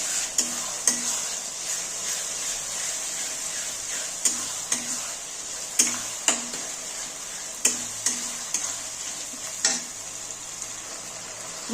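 Onions, salt and turmeric powder sizzle in a pan for a Bengali aloo chicken jhol while a spatula scrapes and taps the pan in a steady, repeated stirring rhythm.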